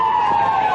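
Brief steady wail of an emergency vehicle siren passing at a Christmas parade in Roxboro, loud and sustained with no break.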